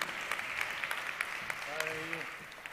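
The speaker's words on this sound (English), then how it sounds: "ladies and gentlemen, a round of applause to Mr. Massimo De Mussi" Scattered clapping from an audience, fairly light, with a brief voice sounding partway through.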